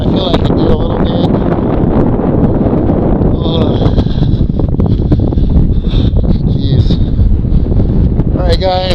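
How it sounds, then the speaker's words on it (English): A 40 mph wind storm buffets a shed at an off-grid desert site, loud roaring gusts blasting the microphone with rattling and flapping over it. "That wind blowing on my shed."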